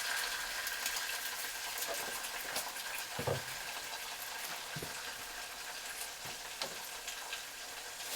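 Egg whites sizzle in a hot pan alongside ramen noodles, a constant crackling fry broken by a few soft scrapes and taps of a utensil stirring, with no talking.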